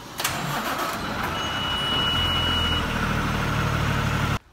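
A fire engine at a Brookline, Massachusetts fire station starts up: a brief starter crank, then the engine catches and settles into a loud, steady mid-pitched idle that cuts off abruptly near the end.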